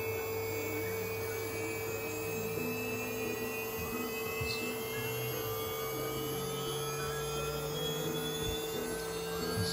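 An HQD 6kW ATC spindle spins at 12,000 RPM on a 400 hertz VFD output, giving a steady, smooth high-pitched whine over a constant electrical hum.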